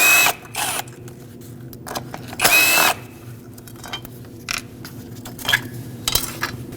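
A power tool zips off 10mm bolts on a 2008–2012 Honda Accord with a 3.5L V6, in short whirring bursts of about half a second each, separated by quiet gaps with faint metallic clinks of tools.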